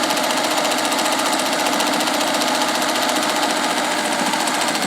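A Singer 201K sewing machine motor runs in steadily with a continuous, even whir and hum throughout, close and fairly loud, with no pauses or talk.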